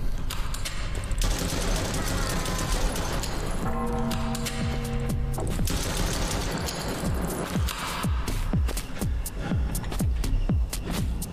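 Gunshots ring out in a horror hospital video game, some fired in quick bursts and some as single cracks, with a voice talking over them.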